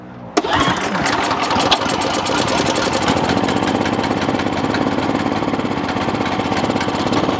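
An Ariens Pro snowblower in rusty, neglected condition starts with a sharp catch and settles into a loud, steady rattling engine run while its auto turn steering works, close and continuous with no talk.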